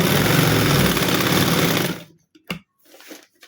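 Sewing machine stitching an organza neck design, a loud, steady rapid whir running for about two seconds before stopping abruptly, followed by a brief clack and faint handling sounds.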